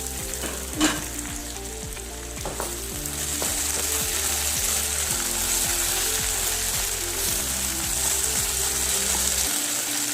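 Potatoes fry in a covered pan for a spicy potato fry, giving a steady, close sizzle that holds through the whole stretch, with a few faint clicks and knocks near the start.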